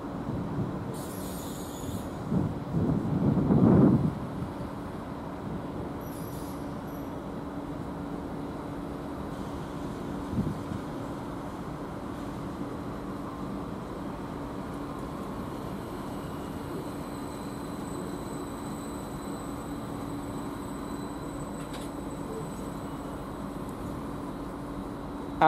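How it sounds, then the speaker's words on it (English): A train arriving at a Norwich railway station platform on the 12:25 service from London Liverpool Street, a low steady rumble with a brief louder burst near the start, faint high squeals and hum under a continuous platform ambience, no talking. "This one is the 12:25 service from London Liverpool Street, terminating here. Arriving quite a few minutes early"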